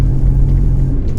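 An old 1980s front-wheel-drive saloon car labours at full throttle, a loud, deep, droning engine rumble heard from inside the cabin, steady and strained without climbing in pitch.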